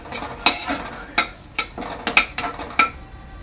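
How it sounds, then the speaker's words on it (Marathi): Dry fruits for ukdiche modak roast in a pan while a spoon stirs them, making a quick series of sharp metallic scrapes and taps close by, with a soft sizzle underneath. "आपले सर्व ड्रायफ्रुट्स आहेत ना, ते परतून घ्यायचे आहेत।"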